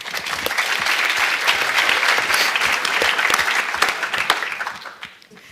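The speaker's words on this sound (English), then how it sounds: "Please applaud now Nathalie Lemans." A graduation ceremony audience applauds, dense and steady clapping for about five seconds before tapering off, with no voices over it.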